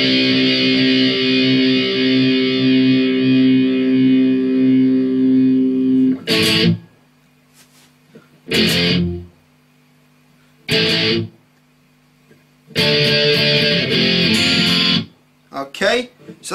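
Distorted electric guitar plays the verse of a song in loud bursts, first a sustained six-second passage, then shorter chord hits separated by near-silent gaps with a faint lingering hum.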